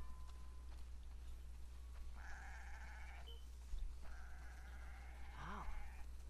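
Two sheep bleats in The Last of Us Part II, the second wavering and louder, over a steady low hum with faint background noise.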